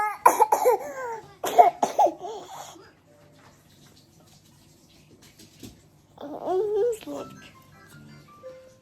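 A toddler with a wet cough coughs in a close, rapid cluster, then again after a pause, with wheezy breathing. The coughs are loud and near, followed by a quiet stretch and a later vocal sound.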